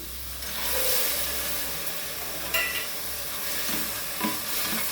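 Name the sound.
potatoes and soaked peas sizzling in pan for methi pulao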